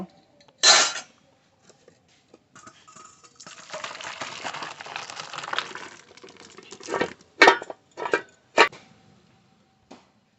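Boiled food is poured out of a metal cooking pot in a home kitchen. Sharp clanks come before a few seconds of soft pouring and sliding, and a run of louder pot and utensil clatter follows.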